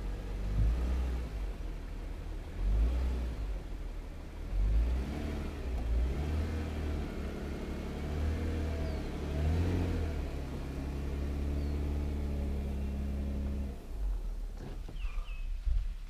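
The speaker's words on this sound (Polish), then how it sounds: "Dobra, wyciągamy auto." A car engine revs repeatedly as the vehicle is driven out of a garden plot, rising and falling surges of low rumbling, then a long sustained rev before it eases off near the end.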